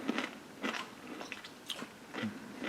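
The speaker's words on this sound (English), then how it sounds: "I'll eat this little carrot. Maintained a lovely crunch, that's for sure" Close, crisp bites and crunching chews on a dill-and-garlic pickled carrot, several sharp crunches spaced irregularly over a few seconds with no talking.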